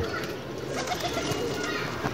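Soft cooing of Pakistani flying pigeons rises from a steady, busy background, with low murmuring calls repeating under a constant outdoor hum.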